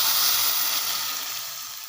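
Fenugreek seeds sizzle in hot oil as a tempering for a curry, a loud, close, steady frying hiss that slowly fades, with no talking.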